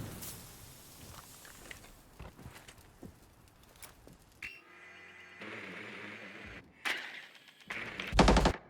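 Rapid bursts of automatic gunfire and single shots in the tactical shooter Rainbow Six, loud and close, with firing in dense clusters and a heavy final volley.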